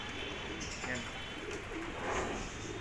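Racing pigeons coo softly inside a loft, low and faint, under steady background noise and indistinct talk.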